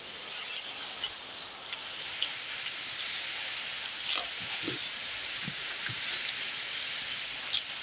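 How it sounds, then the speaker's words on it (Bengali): Heavy monsoon downpour falls outside, a dense steady hiss with scattered sharper drip ticks, heard from indoors at moderate distance and fairly faint, with no talking. "তো বৃষ্টির আওয়াজটা আসতেছে এখানে"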